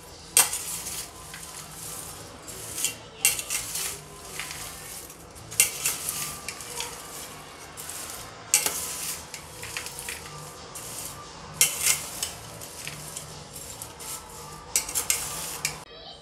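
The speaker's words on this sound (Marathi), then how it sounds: "अलगद हाताने मिक्स करून घेऊ आपण." Batata chivda, fried potato snack mix for fasting, being gently tossed by hand in a bowl, giving repeated dry rustling, crunchy bursts in an irregular rhythm, close and moderately loud.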